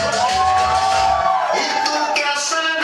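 Crowd cheering and whooping at a cumbia and guaracha dance contest in Brooklyn, New York, loud and dense throughout with a voice shouting over it, sustained by sharper bright bursts toward the end.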